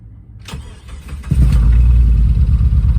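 A 2000 Jeep Grand Cherokee with cylinder 4 misfire and ignition coil fault codes cranks briefly, then catches and settles into a loud, close, uneven-running idle with no talk over it.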